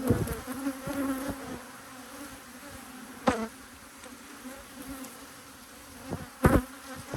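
Honey bees buzzing steadily around an opened hive during a colony split, a dense close drone with brief louder sweeps as individual bees pass near, with no talking.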